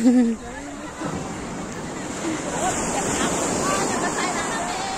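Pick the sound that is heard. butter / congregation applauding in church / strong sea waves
strong sea waves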